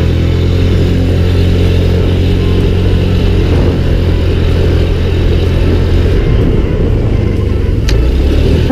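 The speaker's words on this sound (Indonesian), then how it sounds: "Kita coba gas." A Honda Genio 110 scooter engine revving on the throttle, a steady loud close-up drone with wind rush and a slight shift near the end.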